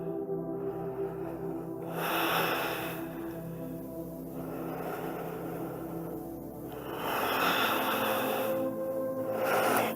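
Slow, deep breaths during a standing yoga hamstring stretch with the head hanging: soft airy swells that rise and fall several times, close and quiet, with no talking.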